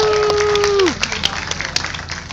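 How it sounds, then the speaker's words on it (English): Audience applause rising for a volunteer called up at a live bird show, broadband clapping with crowd noise after a brief sustained tone fades out; loud and steady, with a voice speaking over it. "Let's have a round of applause for our volunteer."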